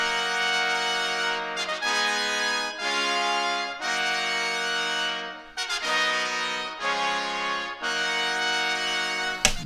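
Real trumpets and trombones recorded together play a bright brass phrase of sustained stacked chords, broken into short held notes with brief gaps, loud and upfront with no talking.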